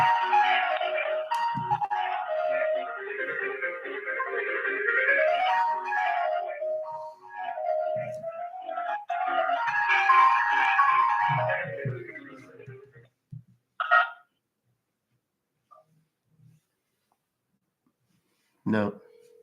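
Telephone hold music plays over a phone line during a call, a thin, narrowband melody with gliding tones that runs for several seconds, then stops and gives way to silence broken by a couple of brief clicks.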